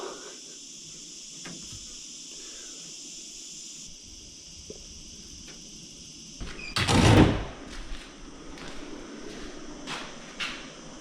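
A bathroom door is bumped and shifted during installation with a loud scraping clatter midway and a few lighter knocks, while crickets chirp softly in the background.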